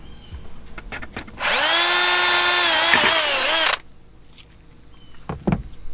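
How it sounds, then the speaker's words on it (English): A power drill whines at high pitch for about two seconds, drilling a hole into a Toyota 4Runner while a backup camera is installed. It holds steady, dips once in pitch and stops abruptly, with quiet clicks and handling noises before and after. "So I'm going to drill a hole right there."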